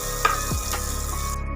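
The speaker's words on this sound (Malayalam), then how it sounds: "അതുപോലെ നമ്മൾ സവാളയും മുന്തിരി പോലെ ഒന്ന് വറുത്ത് കോരുകയാണ്" Sliced onions frying in hot oil for biryani, a brief close sizzle with a short clatter of stirring, settling into a steady crackling hiss.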